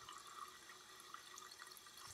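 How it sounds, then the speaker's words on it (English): A warm tap runs steadily into a sink while hands are rinsed, a soft continuous splashing water hiss heard alone at low level. "rinse your hands with warm,"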